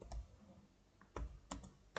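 Computer keyboard typing during a log-file lab task, a few quiet scattered keystrokes and clicks, with a firmer key press near the middle, close and faint, without speech.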